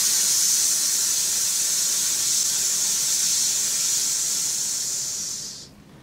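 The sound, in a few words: voice imitating a snake's hiss as a chant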